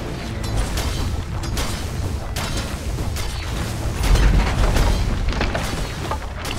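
Tower under attack in a Dota 2 match: a dense, steady wash of battle noise with repeated booming hits and creaking impacts, a swell of heavier blows midway, and no talk.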